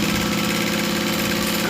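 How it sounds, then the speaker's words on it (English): Steady, loud mechanical whir of a sewing machine stitching fabric, running continuously at an even pace up close with no pauses. "I'm sewing it right side up."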